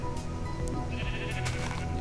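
Sheep bleat several times at close range, loud and continuous over a busy outdoor background with no talking.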